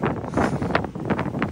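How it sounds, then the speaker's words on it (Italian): Strong gusts buffet a microphone outdoors where a small drone is being flown, making a loud, rough, continuous roar that swells and dips with the wind. "Adesso si è alzato molto vento, quindi diventa molto più difficile gestirlo"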